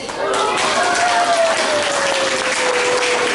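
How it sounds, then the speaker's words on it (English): A loud, close burst of audience applause at a Tropicana speech event greets the next speaker, broad, even clapping that swells quickly and holds steady. "I'm loving your participation and your applause for all of our speakers."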